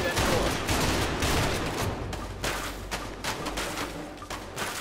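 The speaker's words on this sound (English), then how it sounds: "Now, you move since I'm shooting." Gunfire in the co-op video game A Way Out: a steady stream of loud, dense shots and rapid bursts fills the clip without letup, mixed with other game noise.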